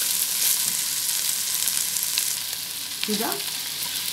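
Meat sizzling in a pan with spiced onion and garlic for a beef turlu casserole, a steady loud frying hiss throughout with a brief stirring scrape near the end and a short spoken word.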